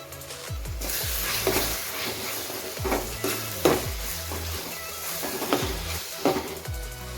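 Ginger garlic paste sizzles and fries with softened onions in a pan, with repeated stirring scrapes sounding at a steady rhythm over continuous close frying hiss.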